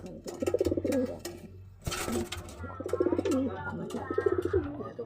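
Pigeons coo in a loft while being handled, repeated throaty coos close by, broken in the middle by a brief burst of rustling or wing flutter.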